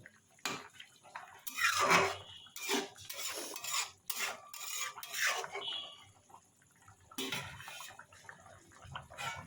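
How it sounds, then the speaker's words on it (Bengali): Metal lid and utensil clatter over a pan of Bengali katla fish curry: scattered clinks and scrapes with gaps between, close and fairly quiet, with faint kitchen background. "ধনে পাতা দিয়ে এবার আমি 5 মিনিটের জন্য ঢাকা দিয়ে দেব।"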